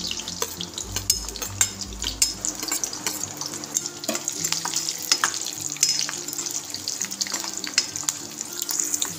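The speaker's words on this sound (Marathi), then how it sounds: "आता आपण आलं भाजून घेऊया. सोबतच लसण टाकूया." Ginger and garlic frying in about two tablespoons of hot oil for a cashew curry gravy, a steady close sizzle with stirring scrapes and clatter running throughout, no voices.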